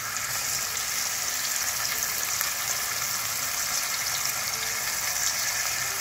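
Garlic paste frying with okra in a mustard and poppy seed sauce, a loud, dense, even sizzle and bubbling hiss that holds steady close by, with no voices.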